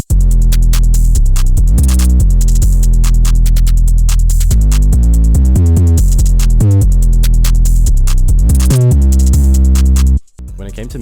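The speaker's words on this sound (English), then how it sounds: "Altogether, the drums sound like this." Full FL Studio drum beat in the distorted flex style, loud and dense with a booming, clipping 808 bass line under rapid hi-hats and snare hits, steady throughout before a sudden brief dropout near the end.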